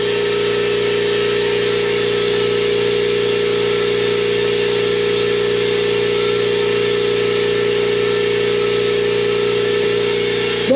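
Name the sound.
Stealth 20 gallon air compressor motor running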